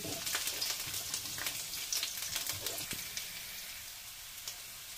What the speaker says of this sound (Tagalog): ipapride muna natin yung garlic